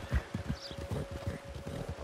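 Horse hooves clip-clopping at a steady walking rhythm in Red Dead Redemption 2, close and clear, with a faint steady hum underneath and no talking.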